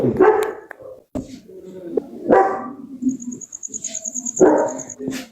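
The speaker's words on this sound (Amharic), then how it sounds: "አንዴ ውሻውን ሚዩት አድርገው።" A dog barks loudly and close in three separate bursts, with whimpering and squeaky noises between barks and a brief high whistle-like tone in the background.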